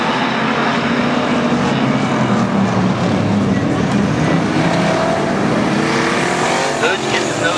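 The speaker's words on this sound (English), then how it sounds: "Heat race number one for pure stocks underway." Pure stock race cars roaring together in a heat race at Barona Speedway, a loud, continuous engine drone with layered revving, under a trackside announcer's voice throughout.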